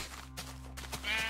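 Sheep bleating in the video game Minecraft, a few short synthetic bleats over a steady low background hum, with a brighter call near the end.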